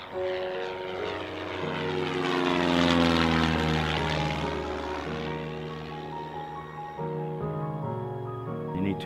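A propeller airplane drones steadily overhead, its engine tone swelling louder near the middle and then easing off, with layered harmonic hum throughout.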